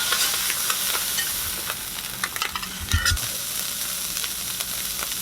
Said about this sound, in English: We've got our corned beef hash on.